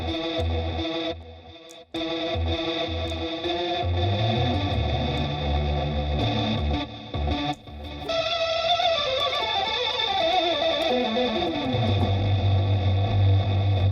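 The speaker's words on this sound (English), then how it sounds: "all we have is this, which is original distortion." Distorted guitar-like tone from an audio effects plug-in, heavily saturated with chorus-like warble, playing sustained chords and a low droning bass continuously, loud and alone with brief dropouts.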